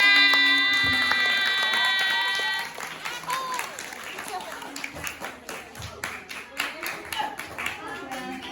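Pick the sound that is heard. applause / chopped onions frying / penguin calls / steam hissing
applause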